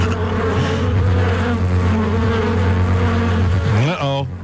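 A loud, steady insect-like buzzing drone, as of a swarm of bees, holds throughout as a sound effect and rises sharply in pitch at the very end.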